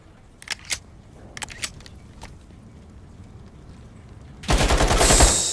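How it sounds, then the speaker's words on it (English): Gunfire in the Modern Warfare video game: a few scattered distant shots early on, then a quiet stretch, then a loud sustained burst of close firing at the end. "Shooting."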